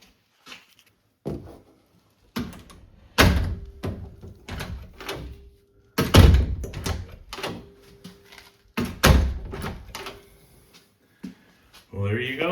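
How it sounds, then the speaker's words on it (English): A door is swung and knocked shut several times, with sharp thuds and latch clicks between bursts of handling noise and someone talking. "Let's check and see how the door closes"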